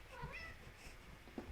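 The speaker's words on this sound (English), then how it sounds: "Oh, that's my cat." An indoor house cat meows a few short, clear times near the microphone, with a faint low hum in the room behind it.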